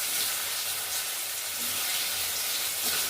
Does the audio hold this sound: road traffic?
no